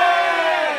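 A crowd at the final of a Japanese-language rap battle gives a short, dense burst of cheering for one of the rappers, loud and sustained through under a second.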